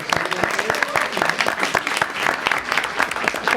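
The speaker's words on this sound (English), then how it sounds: "we'll give Shane a round of applause." A room full of people at a school committee meeting applauds to welcome a new director, steady dense clapping throughout with no one speaking over it.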